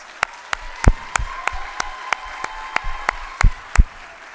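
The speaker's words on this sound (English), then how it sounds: "Give him another round of applause." Scattered audience clapping at a school spring play and awards event, a dozen or so distinct sharp claps spaced steadily, sounding sparse and close rather than a full crowd.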